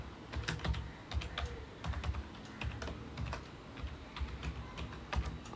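A password is typed on a computer keyboard as a quiet, uneven run of clicking keystrokes that continues steadily for several seconds with no voices.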